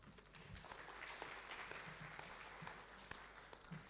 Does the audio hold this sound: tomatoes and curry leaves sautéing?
no